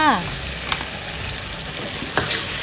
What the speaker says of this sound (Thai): พอใส่พริกโคชูจังไปสักพัก เราผัดแล้วเรารู้สึกเหนียวค่ะ